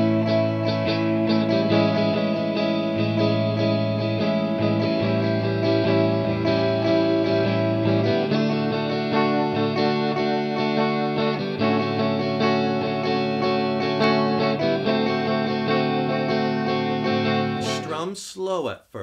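Acoustic guitar strummed in a steady down-up pattern, moving through chord changes slowly and evenly, a beginner's practice run; continuous and close, no one talking, ending in a brief scrape.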